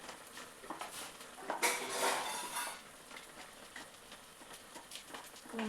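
Liquid pours into a pot of chicken curry, a soft splashing rush that swells midway and then fades into quiet sizzling with faint clinks of the pot, all fairly low and with no talking.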